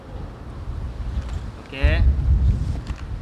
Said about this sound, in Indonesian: Sorry guys, angin. Ini mau hujan guys, angin.